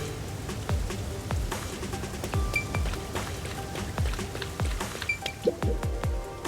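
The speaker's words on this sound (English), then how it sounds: "I really hate the rain." Steady rain in the Master Detective Archives: Rain Code video game, with a dense hiss and repeated droplet splashes that patter irregularly throughout, at moderate level with no talk.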